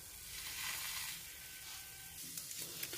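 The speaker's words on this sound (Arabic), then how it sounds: "دونك هذه نحطوها تتشوى وديما نحركوها ونقلبوها." Peppers roast in a pan, giving a soft, steady sizzle with occasional light scrapes as they are turned. The sound is faint and fairly close, with no voices.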